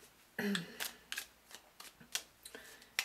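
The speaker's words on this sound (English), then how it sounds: "And as I do, I shuffle." Tarot cards are shuffled in quick riffling bursts, close and soft, with several short crisp flutters in a quiet room.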